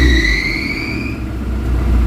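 An Isuzu Crosswind diesel engine runs at a raised, shaky idle, a loud steady rumble close by with a fading high whine over the top and no talk.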